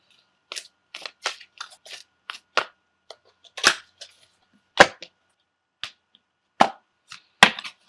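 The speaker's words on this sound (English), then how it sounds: "set your intentions as I shuffle the cards" Tarot cards being shuffled by hand in short, separate bursts, each a crisp riffle or snap close to the mic, spaced irregularly with quiet gaps between them.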